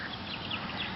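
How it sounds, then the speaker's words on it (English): A duck at a park quacks several times in quick succession, nasal calls coming close over steady outdoor background noise. "What does the duck say? Quack"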